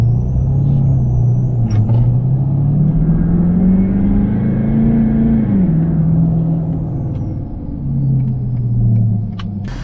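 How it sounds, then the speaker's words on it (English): A 6.7 Powerstroke diesel pickup accelerates hard at full boost, its deep engine rumble rising in pitch, dipping at a shift, then climbing again, loud and close throughout with a faint turbo whistle above. "Nothing like driving your big diesel truck like a sports car."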